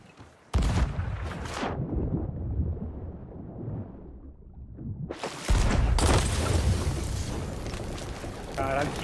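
Loud booming gunshots in the video game Sea of Thieves blast in bursts with crackling explosive noise, a quieter rumbling stretch between volleys, then heavy firing resumes.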